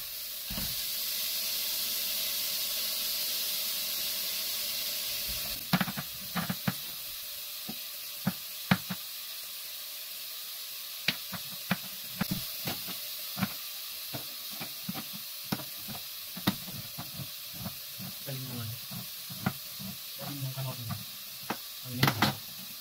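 Garlic and red pepper sauté in a pan over already-sautéed onions for Filipino-style spaghetti sauce: a steady close sizzle at first, then quieter frying broken by sharp clinks and scrapes of a utensil against the pan.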